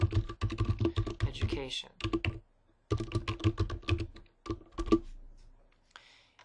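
Rapid keystrokes on a computer keyboard come in bursts, up close, with short pauses between runs of typing and a person talking in between.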